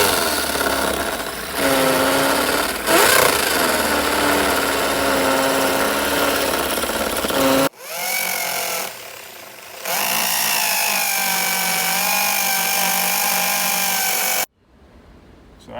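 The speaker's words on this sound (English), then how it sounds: "start drilling." A power drill whirs loudly in sustained bursts, its pitch rising and falling as it bores holes for wall anchors to mount a solar light bracket, with brief pauses between runs.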